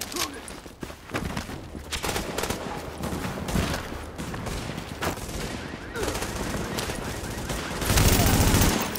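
Rapid bursts of gunfire from a weapon in the video game The Division, repeated shots in quick succession with heavy loud fire near the end, mixed with game sounds and a voice talking over it.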